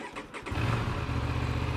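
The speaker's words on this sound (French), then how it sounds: "Je vous démarre le moteur quand même avant qu'on aille décoller pour que vous entendiez à quoi ça ressemble." An Aprilia RS 457 sports motorcycle engine starts up: a brief cranking whir, then the engine catches and settles into a steady, loud, close idle with a low throbbing rumble.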